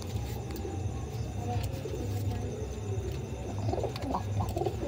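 Giribaj pigeons cooing softly inside a loft where pairs sit on eggs, low murmuring coos continuing steadily under a constant background hum.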